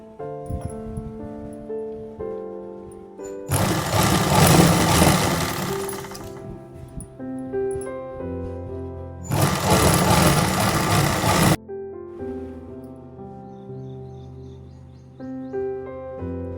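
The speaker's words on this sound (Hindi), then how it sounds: "प्रेस करने के बाद आसन की सिलाई लगाएंगे।" A sewing machine stitches the seam of a 12-panel (kali) palazzo in two steady runs of a few seconds each, with a quieter pause between them, over continuous background music.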